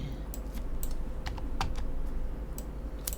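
Keys clatter on a computer keyboard as text is entered in a word-processing task: a steady run of separate close taps over a low background hum, with no talk.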